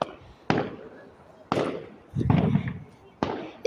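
Bonfire night fireworks bang in sharp, booming bursts several seconds apart, with a crackling rumble between them, while people talk nearby.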